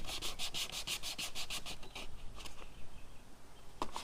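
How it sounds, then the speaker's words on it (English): New plastic jet ski parts for a 1997 Sea-Doo GTI are sanded to a dull finish with quick, close rhythmic scratching strokes that slow and fade, then one last scrape. "you scrape all that off, or sand all that off, so it's all nice and dull"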